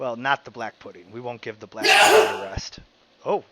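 A single loud, breathy sneeze from someone at a tabletop role-playing session, bursting out in the middle of casual talk, with voices before and after it.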